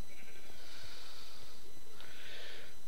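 Two drawn-out sheep bleats from an automated Minecraft sheep farm, one in the first half and another near the end, loud and clear over a faint steady background with no talking.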